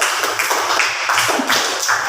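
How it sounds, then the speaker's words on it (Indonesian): A classroom of students claps for a presenting group, a steady, dense patter of many hands, fairly loud and close, with almost no talking. "tepuk tangan dulu untuk kelompok 1"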